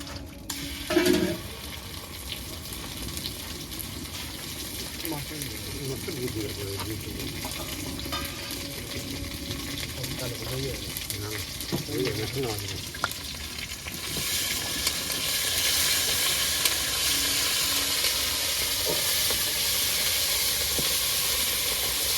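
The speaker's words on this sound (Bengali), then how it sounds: "ফোড়নে তেলটা দিয়ে দিলাম। তেজপাতা, শুকনো লঙ্কা দিয়ে দিলাম।" Bay leaf and dried red chillies sizzling in hot tempering oil, a steady close frying hiss with intermittent stirring and clinks that swells louder toward the end, without speech.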